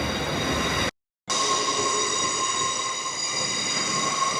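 A train standing at station platform 15 gives off a steady rumbling hum with a faint high whine. The sound cuts out completely for a moment, then the same even drone returns.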